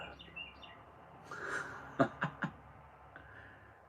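Faint, scattered bird chirps in a quiet outdoor setting, with a few short louder sounds near the middle.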